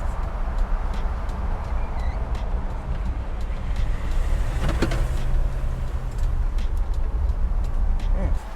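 Inside the cab of a 1989 Dodge Ram D200 pickup with 49k original miles, cruising at about 45 mph: a constant low engine and road rumble with faint rattles and clicks, steady from start to finish.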